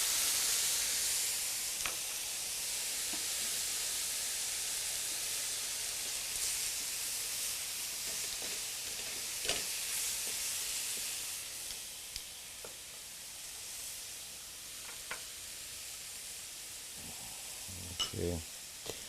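Capers and their brine hit a hot pan and sizzle steadily, a loud continuous hiss with small pops and stirring clinks, while a voice talks now and then.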